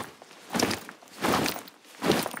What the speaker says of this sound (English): Another effects like soldiers marching.